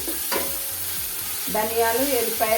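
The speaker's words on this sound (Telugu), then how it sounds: "ఇప్పుడు ఇది మంచిగా వేగి నూనె పైకి తేలాలండి." A ground masala of fried onion, coriander, green chilli and garlic cooking in oil for fish fry, a loud close sizzle with bursts of spoon scraping against the pan.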